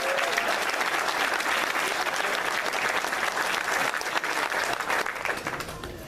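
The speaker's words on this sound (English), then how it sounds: "Let's give them a big round of applause." Sustained audience applause at a service dog graduation ceremony, a dense, steady wash of many hands clapping throughout at even loudness, tapering slightly at the end.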